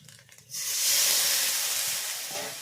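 A small splash of water poured into frying masala for a village-style chicken curry bursts into a loud, sustained steam hiss that gradually eases off, following a few quiet moments.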